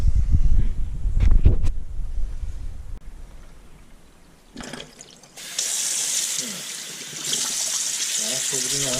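Tap water gushes steadily into a sink to rinse salted Arctic char, the flow starting after some handling noise and splashing along loudly, with someone speaking briefly.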